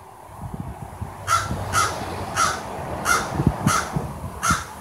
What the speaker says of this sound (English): What are you saying, Blackbird?